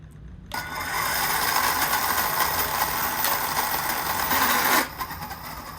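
Electric RC car motor driven through its speed control, spinning up abruptly into a steady high-pitched whine that holds for about four seconds, then cuts off sharply.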